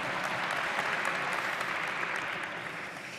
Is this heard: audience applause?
yes